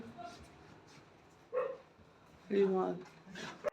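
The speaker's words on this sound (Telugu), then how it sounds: "ఇక్కడ ఇంకో డాగ్ ఉంది" A dog at a pet-friendly riverside cottage in Manali gives a few short barks and whines in separate bursts, close by, over a steady low background.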